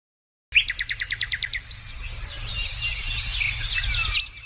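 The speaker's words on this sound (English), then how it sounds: "Chirping birds set the scene outside this purple door in a quiet part of town." Outdoor birdsong in a quiet part of town: a quick run of about ten evenly spaced chirps opens the clip, followed by steady, busier twittering and warbling that continues at moderate loudness over a low background rumble.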